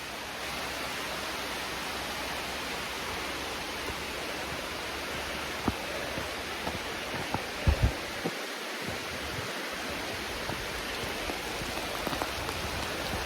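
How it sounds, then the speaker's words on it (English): Steady rain hisses down continuously on a forest trail in Panther Creek State Park, dense and even, with a few louder drops tapping nearby and water running down the trail. "it's raining enough now. Water's starting to run down the trail in places."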